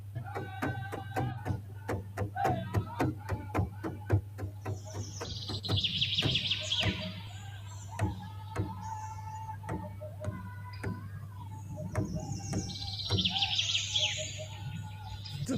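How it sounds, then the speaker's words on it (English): Loud bursts of bird chirping and twittering come in waves over a steady low hum, with scattered clicks and knocks throughout. "The birds were really loud,"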